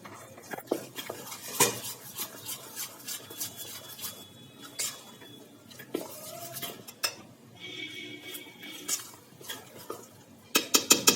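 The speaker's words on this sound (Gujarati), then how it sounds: "જે આપણે ખીરું તૈયાર કરેલું છે તેમાં આપણો વઘાર હવે ઉમેરી દઈશું" Hot tempering is added to a rice-lentil handvo batter and mixed in, with repeated clinks and scraping taps of a spoon against the bowl in an uneven rhythm, ending in a quick flurry of knocks.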